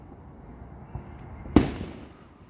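July 4 fireworks burst far off near Concord, California: a faint early pop, then one louder distant boom that rumbles and fades over a quiet night background.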